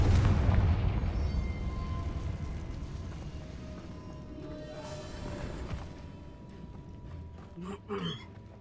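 A Confringo blasting spell explodes in Hogwarts Legacy, a heavy boom that opens loud and deep and slowly rumbles away, with a voice speaking over it and a few sharp crackles near the end.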